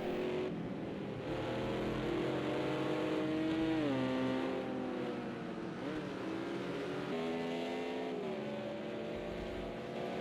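Several GT race cars from the 1998 FIA GT Championship in the Project CARS 2 racing game run at the Nürburgring GP circuit, their loud engines holding a steady drone with rising and falling revs as they chase down the straight.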